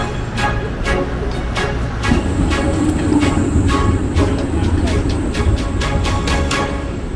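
A modern tram rolls past nearby, a steady rumble with rhythmic clicks of wheels over track joints, growing slightly louder midway, with faint voices underneath.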